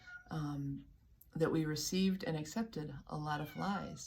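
A pet cat named Pearl cries at a door with a few short meows that mix with a person talking nearby.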